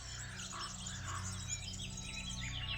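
A nightingale sings in a Lithuanian audio tale, a steady run of bright chirps and trills that carries on without pause above a low hum, with no talking.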